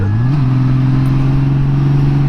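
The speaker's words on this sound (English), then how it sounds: "quick tap of the decel and I can get myself some additional revs." A Honda Goldwing motorcycle engine blips up sharply in a quick rev on a downshift, then holds a steady loud drone, close by and continuous.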